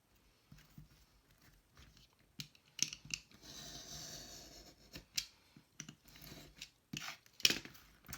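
Scissors cut a piece of lace or ribbon scrap, quiet close snips and rustling fabric in irregular bursts with short pauses between them.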